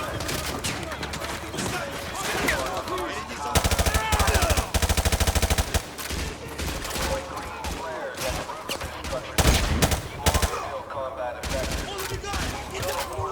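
Bursts of automatic machine gun fire in Call of Duty: Modern Warfare 2 Remastered, dense rapid volleys that recur throughout amid explosions and game noise, with loud sustained stretches around the middle and later.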